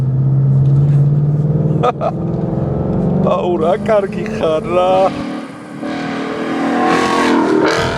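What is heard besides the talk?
Ford Mustang 5.0 engine revving under acceleration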